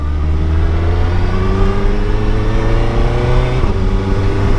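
A 2021 Suzuki Hayabusa motorcycle under way gives a loud, close, continuous engine drone with rising tonal pitch as it accelerates, plus a brief dip suggesting a gear shift near the end.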